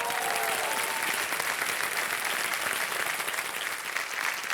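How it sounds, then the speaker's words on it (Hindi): A studio audience on a television quiz show gives a contestant sustained, thick applause, steady and loud throughout, with a faint voice at the very start. "तब तक हम आपके लिए ताली बजवा देते हैं"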